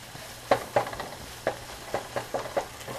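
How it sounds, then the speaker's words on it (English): Onions and bacon fry in a pan with a soft, low sizzle, broken by a handful of light utensil clicks and stirring taps spaced through the clip. "there's nothing better than onions and bacon when they're frying."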